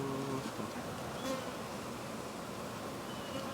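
Honey bees buzzing around an opened long hive, a dense steady drone close by that stays fairly quiet and continuous throughout.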